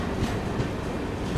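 The Andhra Pradesh Express runs steadily on a loop line, a loud, continuous rumble of wheels and carriages with a faint rhythmic clatter and no voices.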